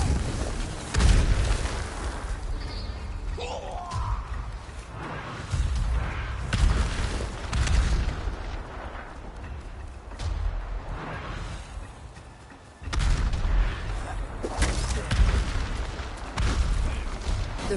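Gunfire and explosions in Ghost of Tsushima, samurai under fire from raiders: repeated heavy booms and blasts at irregular intervals across the stretch, loud with rumbling tails, a brief lull near the middle, no talk.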